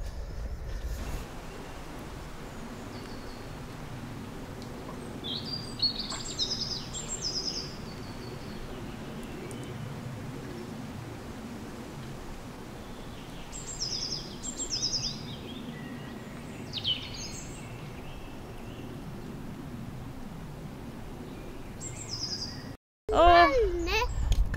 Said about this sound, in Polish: Po środku rezerwatu, słychać śpiew ptaków.